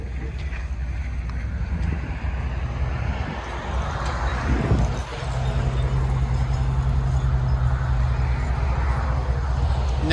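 A 2002 Lincoln Continental 4.6L V8 with dual exhaust and the mufflers cut off, a loud, steady low rumble that drones continuously with a brief dip midway.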